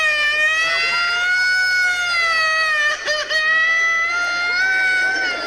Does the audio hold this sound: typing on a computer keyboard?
no